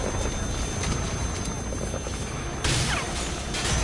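Helicopter in Metal Gear Solid V: The Phantom Pain, a dense steady rotor and engine roar filling the whole stretch, with a brief louder crash-like swell near the end.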